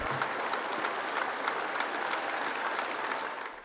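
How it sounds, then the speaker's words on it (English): A large outdoor crowd applauds steadily at a memorial tribute for a fallen soldier in Bury. The dense clapping fills the whole stretch and fades slightly at the end. "The applause swelled as Lee Rigby's family arrived."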